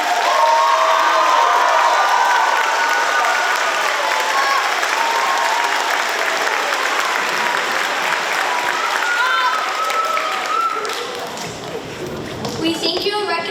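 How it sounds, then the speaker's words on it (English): A school spring concert audience gives loud, dense applause for fifth graders, with cheering and children's voices mixed in. It runs steadily for over ten seconds, then thins toward the end. "Could you stand again and we can give you a special applause for these 5th graders moving on up?"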